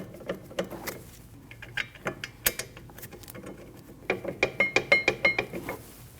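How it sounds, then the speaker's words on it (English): A ratchet clicks while tightening two 14mm bolts on a 2003-2008 Subaru Forester rear brake bracket, sharp metallic ticks in uneven spurts, then a quicker steady run of clicks near the end. "Tighten those 2 14mm bolts."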